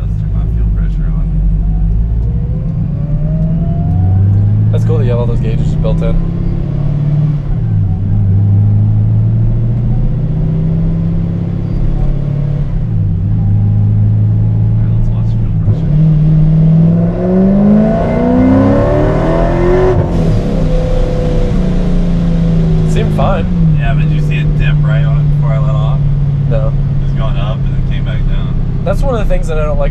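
A Ford Mustang GT350 engine runs on a dyno with nitrous while running lean, a heavy, steady low rumble that climbs through a revving sweep partway through, with people talking over it nearby.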